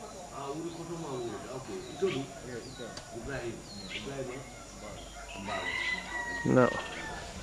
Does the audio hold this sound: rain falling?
no